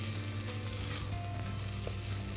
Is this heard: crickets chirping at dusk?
no